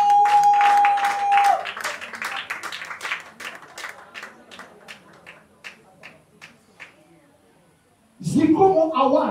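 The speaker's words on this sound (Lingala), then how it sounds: "Est-ce qu'on peut applaudir pour ça?" An audience breaks into applause at an awards-style ceremony, a dense burst of clapping that thins into scattered claps and fades out before a voice resumes.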